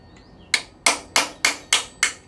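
Six sharp, evenly spaced metallic hammer blows on a chisel, knocking a part off the rear suspension of a Chevrolet Bel Air in a garage, loud and close with brief ringing after each strike.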